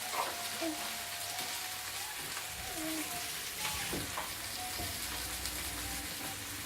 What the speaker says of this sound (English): Get it in the oil, get the sausage fat into it as well. Turn down the heat slightly, and just want to sweat these down to nice and soft.